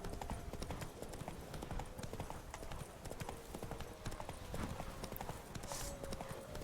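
A horse's hooves clip-clop in a steady, quick rhythm as it travels in The Witcher 3 video game, soft and continuous throughout.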